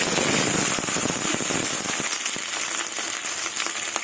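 Bay leaf, dried chilli, panch phoron and mixed vegetables hit hot oil for a Bengali mixed-vegetable curry with whole moong dal and chickpeas, giving a close, loud, steady sizzle dotted with sharp crackles and pops, with no talking.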